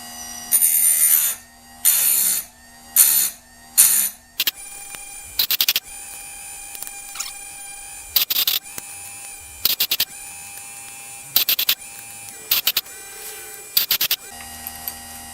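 An electric chain sharpener grinds the teeth of a McCulloch 3516 chainsaw chain in short buzzing bursts, repeated in an irregular rhythm with quiet pauses between each tooth, close and fairly loud.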